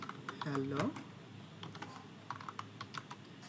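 Rapid keystrokes from a computer keyboard as text is typed into Notepad, a quick run of clicks with a brief voice early on, then scattered, lighter taps.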